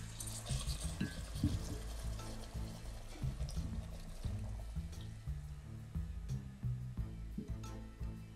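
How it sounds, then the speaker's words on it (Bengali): Water being added to a chicken and potato curry simmering in a pot: a low gurgling, bubbling wash with stirring and liquid movement throughout, close and fairly quiet, with no talking. "এবার আমি পানি দিয়ে দিচ্ছি,"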